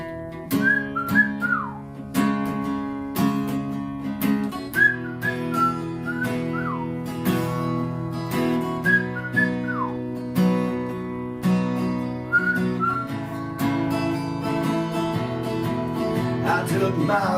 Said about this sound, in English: That's where I learned to whistle.